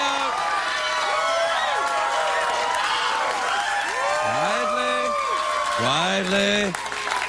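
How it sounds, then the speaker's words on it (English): Studio audience applause and cheering from a late-night talk show crowd hold on and then taper off, while someone speaks over it. "And your applause dies away quite naturally."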